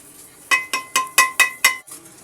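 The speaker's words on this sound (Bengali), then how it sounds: "এই তিনটা সবজি আমি দিয়ে আবার নেড়ে নিচ্ছি" Spoon stirring papaya, gourd and potato in a metal cooking pot for spicy khichuri, six sharp clinking scrapes in a steady rhythm, close and fairly loud with no talk.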